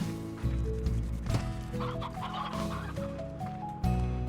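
Chickens cluck in the Slime Rancher video game, with bursts of clucking and squawks over a backdrop of stepped, tonal in-game sounds; no talking.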